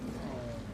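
A lion roars in a Nintendo Switch game, one short, low, rumbling growl that fills the brief moment at a quiet level.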